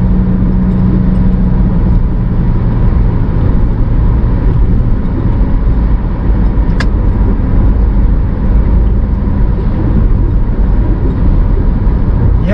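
Steady, loud in-car road rumble as a car drives over rough, sandy asphalt on the BR-470 in Blumenau, Brazil, a constant low vibrating drone with one brief sharp tick midway.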